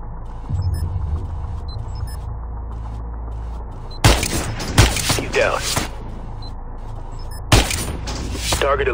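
Suppressed gunfire in the stealth shooter Splinter Cell: Blacklist at an insurgent stronghold, a few sharp bursts over a low ambient hum, with voices talking between them.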